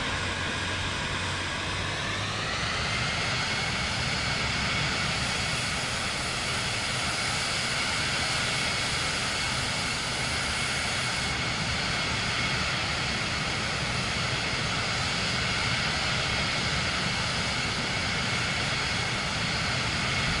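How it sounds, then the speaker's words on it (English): An aircraft engine in the Microsoft Flight Simulator 2024 game hums as a steady, even drone, with a slight pitch rise early on and no change in loudness throughout. "I hear another plane."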